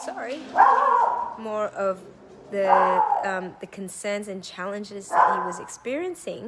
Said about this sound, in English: excuse the barky dog